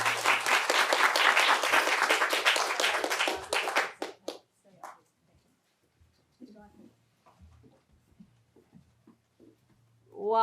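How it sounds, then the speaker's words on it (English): Audience applause after a panel on water security and urban resilience, several seconds of dense clapping that dies out abruptly, leaving scattered quiet noises and faint voices afterward. "give them another clap"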